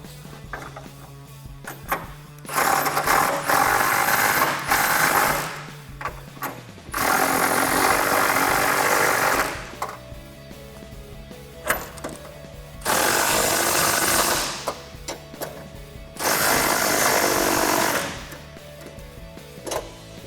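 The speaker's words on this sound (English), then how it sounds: "And now we can take our 18 millimeter socket and snug everything up." A power tool drives an 18 mm socket to tighten bolts on a 2011-2016 Super Duty truck headlight, sounding as four loud, steady whirring bursts of a few seconds each, separated by quieter pauses.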